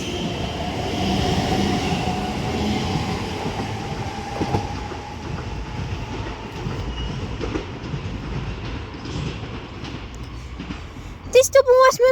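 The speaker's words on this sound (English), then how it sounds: "This double West Midlands Railway class 730 departs Four Oaks now" A double-unit West Midlands Railway class 730 electric train pulls away from Four Oaks station, a steady rumbling roll with rising motor tone that gradually fades, ending with a few sharp squeals or tones; voices are heard faintly on the platform.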